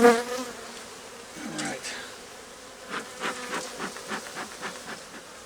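A dense, droning buzz of many aggressive honey bees swarming close by at an opened hive, pulsing steadily with soft handling noises underneath.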